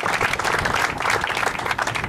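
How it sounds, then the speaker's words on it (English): A large audience claps in sustained, dense applause at a public speaking event, steady and loud throughout with no break. "Absolutely, give them a round of applause."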